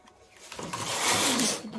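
A knitting machine carriage is pushed across the bed while decreasing stitches for a hoodie, giving one close, rising mechanical swish and rattle that peaks midway and then fades, with no talk over it.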